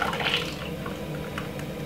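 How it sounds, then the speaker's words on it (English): Fresh blended summer juice pours from a blender jug into a glass holding a few ice cubes, a steady close liquid splash with faint dripping and no talk. "few ice in the glass, and then we're gonna pour it in like this."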